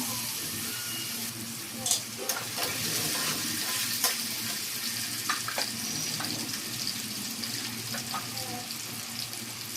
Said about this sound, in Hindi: ये मैं आलू को फ्राई कर रही हूँ हाई फ्लेम पे।